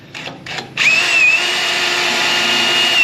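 A power drill cuts out spot welds on a car body during quarter panel and roof removal, starting after two short bursts and then whining loud and steady up close.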